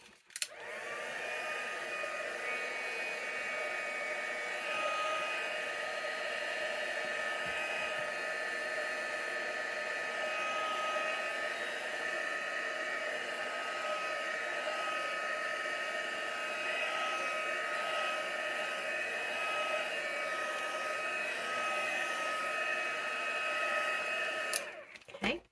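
A hair dryer blows steadily on a fresh acrylic painting of tulips, a constant whirring drone running about 25 seconds from switch-on to switch-off, with no talking.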